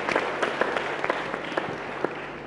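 A crowd at a climate action town hall applauds with a burst of scattered clapping, steady and moderately loud, without voices.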